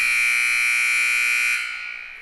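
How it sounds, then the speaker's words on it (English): A loud, steady electronic buzzer alarm drones on one harsh pitch, then cuts off abruptly, leaving a faint ringing hum behind. "apologies for the buzzer there"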